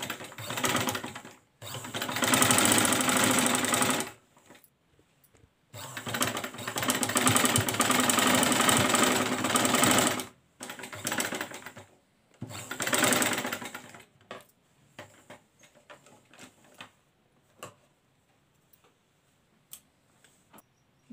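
A sewing machine runs in two long bursts stitching a strip onto a raglan-sleeve baby frock, its needle chattering rapidly and loudly, followed by quieter scattered clicks and handling taps as the fabric is adjusted.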